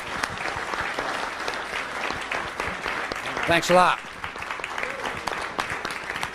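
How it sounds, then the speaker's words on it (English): An audience gives a lecture guest a loud, dense round of applause that swells briefly near the end while someone speaks over it. "Let's give him a round of applause."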